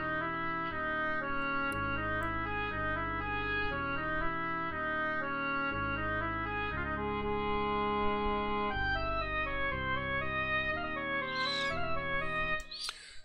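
A completed raga-style tune plays continuously, a sustained melodic line with steady rhythmic note changes and bright harmonics, ending with a couple of short chirpy accents near the finish.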